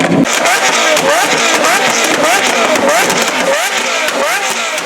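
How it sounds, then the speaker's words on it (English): A Lamborghini Aventador Roadster fitted with a Powercraft exhaust roars loudly nearby in Times Square, its engine note rising and falling in repeated revving sweeps over a busy city background. "It's got a Powercraft exhaust system, and the sound was really deafening in Times Square."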